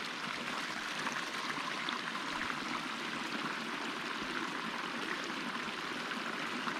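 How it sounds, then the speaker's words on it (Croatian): A stream runs down and pours into Balkana Lake near Mrkonjić Grad, a faint, steady rushing and trickling of water that continues evenly throughout with no voices. "Evo potok sad dole ulijeva se u ovo jezero."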